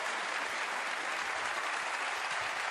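A snooker crowd at the Crucible during the World Championship gives a full, steady round of applause, dense and sustained throughout with no gaps.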